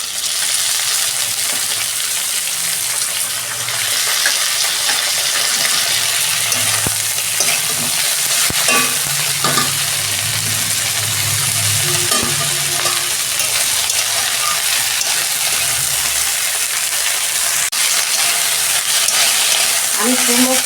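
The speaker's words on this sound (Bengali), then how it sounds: "আমি কুমড়ো শাকটা 2 মিনিট একটু নেড়ে চেড়ে ভেজে নেব।" Pumpkin greens stirred and fried in a pan for a dal dish, giving a steady, close sizzle with scraping spatula strokes throughout and no talking.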